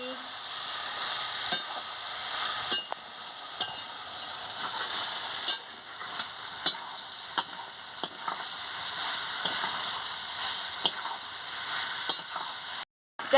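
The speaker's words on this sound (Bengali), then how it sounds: "দিয়ে ভালো করে আনাজটাকে নাড়িয়ে নিচ্ছি" Potol, jhinge and potato pieces stirred and fried in a pan with turmeric and salt: a continuous loud sizzle punctuated by regular sharp scrapes and clacks of a spatula, roughly every second.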